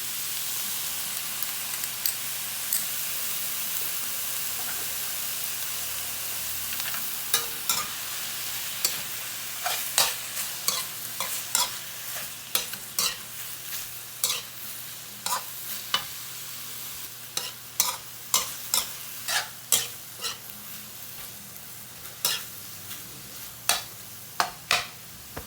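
Shrimp paste (alamang) sizzles softly in a pan while a utensil stirs and scrapes it, with repeated sharp clicks and taps over a steady low frying hiss.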